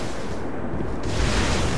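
Shotgun blasts in the video game Destiny during a player-versus-player match, a dense booming burst swelling loudly toward the end of a brief stretch of game noise.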